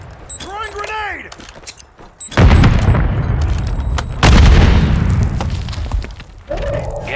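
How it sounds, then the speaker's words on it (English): Grenade explosion in the video game Call of Duty Warzone, two heavy, loud booms with long rumbling tails, preceded by a brief shout and followed by a voice over the fading blast. "Throwing grenade!"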